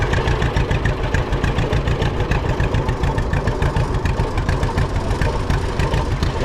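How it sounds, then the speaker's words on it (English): An old John Deere combine, a number 40 or 55 EB, idles steadily at a threshing bee, its engine chugging in a fast, even knocking rhythm at moderate loudness throughout with no voices. "A couple of John Deere combines, a number 40 and a 55 EB,"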